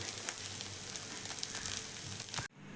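Ottada, a Kerala rice flatbread, sizzling in a hot pan, a steady crackling fry with small pops throughout that cuts off abruptly near the end.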